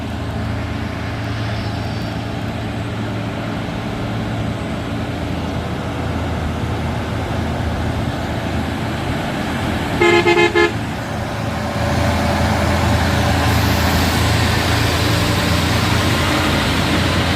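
Trucks and trailer trucks labour up a steep hill road in Indonesia, a continuous heavy engine and traffic rumble that grows louder, with a short horn toot midway.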